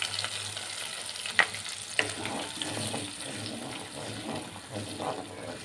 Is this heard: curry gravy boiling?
yes